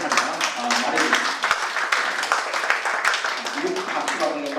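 Audience at a study meeting breaking into applause, a crackle of many hands clapping under someone speaking over it, moderately close and sustained.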